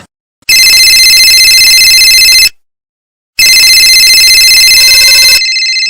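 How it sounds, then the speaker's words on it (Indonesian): A mobile phone ringtone sounds in two long, loud electronic bursts separated by a brief silence. A quieter tone follows at the very end. "HP kamu bunyi noh"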